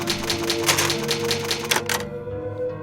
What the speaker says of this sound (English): It's an old typewriter. You can save your progress.